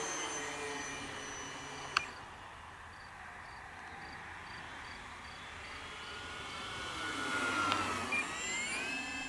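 A Durafly T-28 Trojan Naval Aviation Centennial Edition RC plane, 1100mm, flies past at full speed, its electric motor whining steadily, rising in pitch and loudness as it approaches, then falling off as it passes close by.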